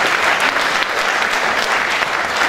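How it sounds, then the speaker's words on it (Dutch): Dense, sustained applause from an audience at a sports awards evening in Aalten, a thick even wash of many hands clapping close by with no pauses or talk. "Geef ze nog een avond applaus."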